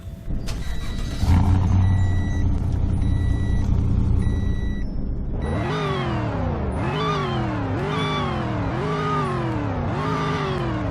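A supercharged 2015 Range Rover Sport in the Roblox game Greenville starts up with a chime and a steady engine hum, then revs repeatedly in a rising, falling pattern, loud and alone.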